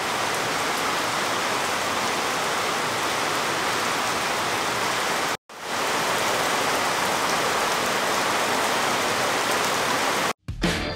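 Heavy rain pours steadily and loudly in Mexico's Jalpan area on the road toward the Huasteca Potosina, a dense continuous downpour with two brief dropouts and no voices.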